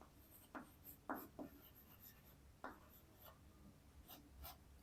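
Writing on a board during a class 12 matrices maths lesson gives soft scratchy strokes in short irregular bursts, faint and close, in a quiet room.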